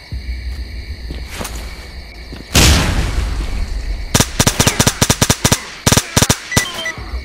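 Gunfire in the video game STALKER: Clear Sky, a single sharp shot and then a loud blast, followed by rapid bursts of automatic fire that come in clusters.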